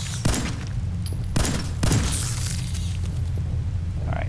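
Three sharp gunshots fired in quick succession in VATS targeting in Fallout 4, spaced about a second apart over a steady low game ambience, followed by quieter background hum.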